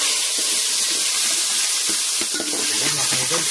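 Pork sautés with tomato and onion in a hot pan, making a loud continuous hiss of sizzling with some stirring scrapes and soft clatter underneath, heard close.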